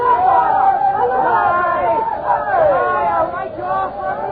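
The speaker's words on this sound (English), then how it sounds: "This crowd is getting bigger." A crowd murmurs and chatters in an old radio drama, a steady muffled babble of many voices at moderate volume, thin and band-limited like an old broadcast recording.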